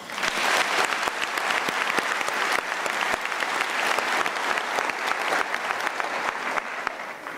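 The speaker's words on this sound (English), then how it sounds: "Professor Zongozi deserves a firmer round of applause" Audience applause for a professor at a university spring graduation ceremony, a loud, sustained round of dense clapping in a large hall, even and unbroken throughout.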